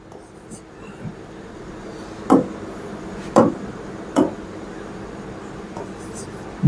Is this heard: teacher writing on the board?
yes